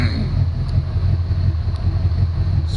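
A 1990 Ford Mustang 5.0 V8, recently revived after sitting for years, idles steadily with a deep continuous low rumble, close and loud, with no talking.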